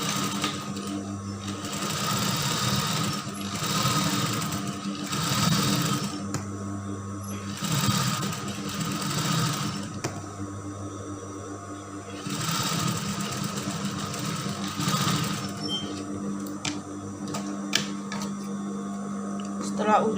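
A sewing machine stitches the crotch seam of gathered baggy pants, its motor whirring in several bursts of rapid running separated by brief pauses, while someone talks over it.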